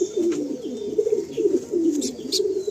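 Young pigeons at a loft of Madrasi birds coo in soft, repeated low throaty rolls, close and steady, with a few faint chirps above.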